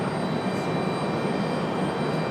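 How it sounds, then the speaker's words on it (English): Steady, loud broadband jet rumble from a Delta Airlines Boeing 767-400 arriving at Raleigh-Durham International, unbroken throughout with no speech. "Second one for arrival, a 767-400 for Delta Airlines coming from London Heathrow."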